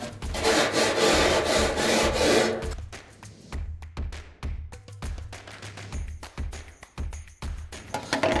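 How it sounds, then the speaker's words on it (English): Grill grates of a Weber grill are scrubbed with a brush: a loud, continuous scraping at first, then a string of shorter rhythmic strokes, close up and with no talk. "scrape away, scrape away, scrape away. All right, I'll brush the rest of this"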